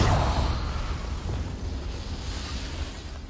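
Confringo fire spell from the video game Hogwarts Legacy, a loud blast that rumbles at the start and fades into a sustained fiery roar lasting several seconds with no talk.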